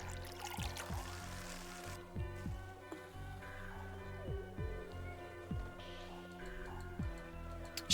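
Water pours and trickles in the Bulb Boy video game, a soft, quiet liquid stream with repeated ticking, bubbly swoops recurring every second or so under faint game music.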